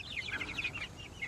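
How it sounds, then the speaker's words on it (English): Chickens clucking softly inside a coop, a quick run of faint, high-pitched clucks and chirps over a low background hum. "the kids and I got all the chickens in here"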